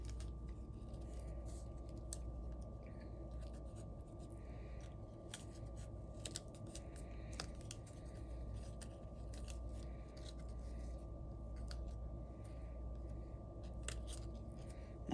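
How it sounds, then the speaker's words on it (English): Tear and Tape adhesive being torn and handled for card making at a craft table, with faint sporadic snips and crinkles over a steady low hum. "let me get some tear and tape"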